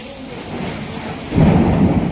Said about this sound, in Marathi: लयच डेंजर पाऊस आलाय बाबा